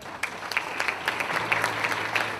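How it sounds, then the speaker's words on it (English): Brief, moderate applause from an audience at a high school alumni hall of fame awards ceremony in Plainfield, New Jersey, with individual claps audible in a steady patter and a faint murmur beneath. "We need a little bit more applause."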